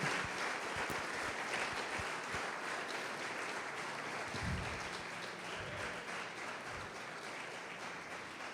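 A congregation applauds in church in a continuous, even wash of clapping that sounds somewhat distant and muted and holds steady throughout.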